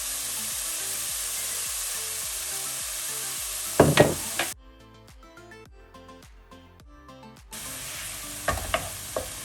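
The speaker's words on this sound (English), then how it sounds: "we are going to add in 1 tablespoon of Chinese cooking wine" Pork frying in a pan for Beijing noodles gives a loud sizzle with stirring scrapes, then a sharp sizzle as Chinese cooking wine goes in. The sizzle returns with more stirring clatter after a quieter stretch, and nobody speaks.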